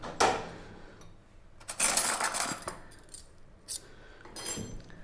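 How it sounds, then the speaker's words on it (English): A metal spoon being picked up and handled in a kitchen, with several sharp clinks and rattles against dishes and cutlery, close and intermittent. "Let me just grab a spoon."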